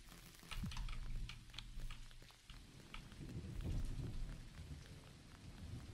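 Steady rain patters through a thunderstorm in the farming game Dinkum, with low rumbling thunder rolling in twice under the downpour and no voices.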